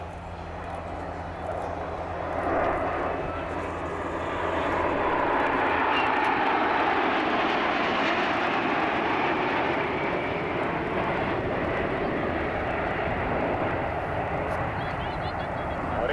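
Swiss Air Force jets flying in formation at the RIAT airshow in 2006 produce a loud, continuous jet roar that swells and then holds steady throughout.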